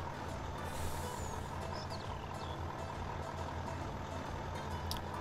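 A truck reversing in Farming Simulator 19, with a steady low engine drone and an air brake hiss, though the reversing beeps cannot be made out clearly; it carries on evenly throughout with no talk.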